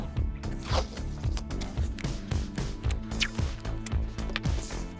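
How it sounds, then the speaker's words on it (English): Masking tape torn off the roll and pressed down to hold wood veneer onto plywood for a shelf build, heard up close as a steady run of rasping, zipper-like rips that repeat across the whole stretch, with no talking. "And I'm gonna tape this down."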